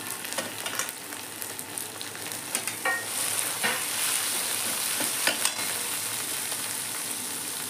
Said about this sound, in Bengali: পেঁয়াজ রসুনটা দেখেন লাল লাল করে ভাজি নিচ্ছি